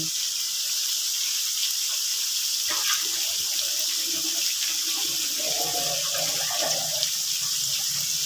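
Hot water is poured off heated, salted cauliflower. After a short lull it gushes and splashes in an uneven, close stream that continues to the end.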